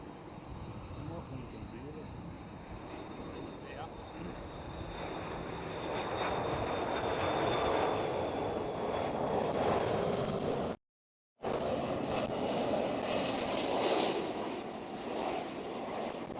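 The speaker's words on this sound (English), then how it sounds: "KLM A330" A KLM Airbus A330 airliner at Schiphol airport gives a steady, broad engine roar that swells and holds. The sound stays fairly distant under light wind noise, with a short dropout partway through.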